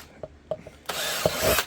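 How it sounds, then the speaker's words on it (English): A power drill bores a pilot hole in holster material for the HK VP9 Match with an X300U light, a short steady whir after a few light taps and handling knocks. "And then we're going to mark set holes and then drill those."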